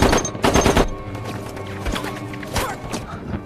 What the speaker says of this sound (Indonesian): tembakan dari pasukan Inggris memborbardir pertahanan Jerman